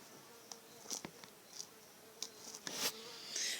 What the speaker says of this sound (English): There's a bee that's been visiting me throughout the day today